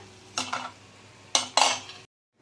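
Murukku spirals of green gram dough frying in hot oil in a home kitchen, with a steady low sizzle and a few short metallic scrapes and clinks as pieces are lifted out, ending abruptly in silence.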